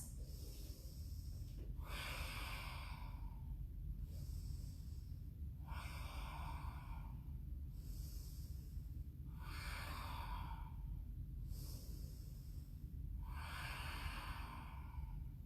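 Steady breathing held through a yoga bridge or wheel pose, five slow, even breaths in a quiet room, each a soft airy rush with gentle pauses between.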